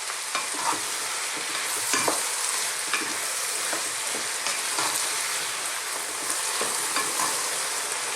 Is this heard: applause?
no